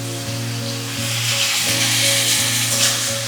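Chicken pieces fry in hot oil, a loud, steady, close sizzle with a broad hiss throughout and a faint low hum underneath, with no voices.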